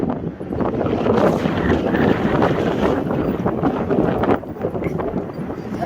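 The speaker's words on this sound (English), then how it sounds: "It is super, super windy." Strong gusts buffet the microphone outdoors on a stormy day, making a loud, continuous roaring rumble that barely lets up throughout.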